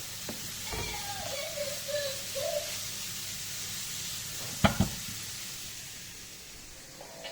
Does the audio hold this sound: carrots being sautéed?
yes